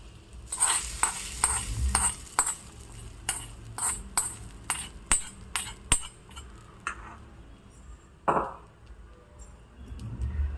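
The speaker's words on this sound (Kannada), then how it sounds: "ಇವಾಗ ಒಗ್ಗರಣೆಯನ್ನು ಇವಾಗ ಅವಲಕ್ಕಿ ಮಿಶ್ರಣಕ್ಕೆ ಹಾಕೋತಾ ಇದ್ದೀನಿ" Tempering stirred into a flattened rice (aval) mixture for temple-style avalakki, with a sizzling burst followed by a series of sharp metal spoon clinks and scraping stirs against the vessel, close and clear.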